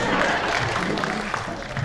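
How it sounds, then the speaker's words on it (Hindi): Audience clapping at a Hindi kavi sammelan poetry recital, a steady wash of applause and crowd murmur sustained throughout at moderate level. "जो समझ में जिनको आए वही लोग ताली बजाएं"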